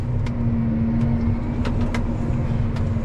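A John Deere 7R350 tractor reversing, its engine running as a steady, close low drone with a constant tonal hum and a few faint clicks and rattles over the top.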